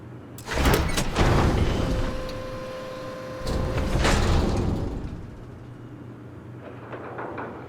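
A large sci-fi door in the video game Starfield slides open with a loud mechanical whir and a sustained electronic hum, then a second surge of motion before settling into quiet ambience.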